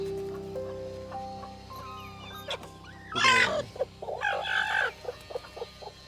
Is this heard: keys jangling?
no